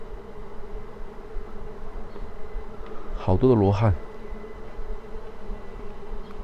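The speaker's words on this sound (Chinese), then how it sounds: "越往这个里面走啊，你有没有感觉到这个蜜蜂啊？ 越来越多了，就像一个蜜蜂的巢穴一样" Bees buzz steadily inside an abandoned Arhat temple, a constant insect drone filling the space while a person briefly speaks over it midway.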